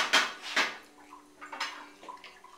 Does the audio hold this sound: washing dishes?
yes